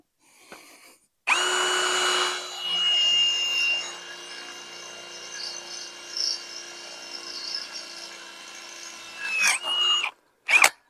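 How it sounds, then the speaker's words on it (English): A power drill bores a hole into a gate post, a close, steady whining buzz that holds for about nine seconds, then stops, followed by a couple of short bursts. "So let's get a hole drilled in there."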